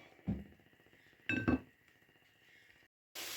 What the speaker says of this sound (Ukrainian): Зараз я перемішаю накрию кришечкою і хай ще тушкується.